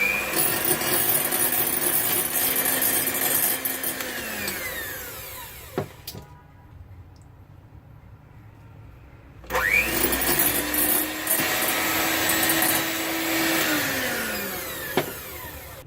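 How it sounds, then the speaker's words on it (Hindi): Cake batter beaten with an electric beater while caster sugar is added a spoonful at a time, a steady loud whirring motor that stops briefly mid-way, then resumes with changing pitch. "बस इसी तरह से आपने स्लोली स्लोली डाल डाल के आपने इसको बीट करते रहना है"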